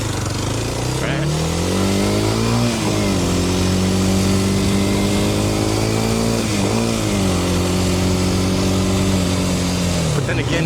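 A motorcycle engine being ridden, revving up through gears in repeated rising pulls with brief dips between, close and loud throughout, while a person talks over it.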